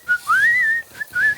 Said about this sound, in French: Il faut toujours siffloter quand on prépare les dîners.